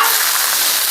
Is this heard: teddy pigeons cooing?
no